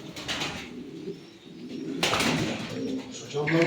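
Crested Armenian pigeons coo softly in a loft, with low murmuring calls, wing flutters and bird chatter mixed with faint background voices.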